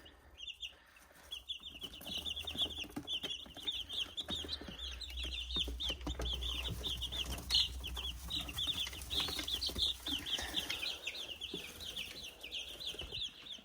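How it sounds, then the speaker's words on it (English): Meat chickens in a brooder box inside a garage cluck and peep continuously in a busy, close chorus, with a low hum in the background and no talking. "meat birds in the garage in our brooder box, and so we'll check on them next."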